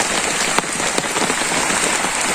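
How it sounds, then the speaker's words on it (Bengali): Rain falling steadily, a loud dense patter on surfaces with a few sharper drips standing out. "সুন্দর বৃষ্টি নামছে"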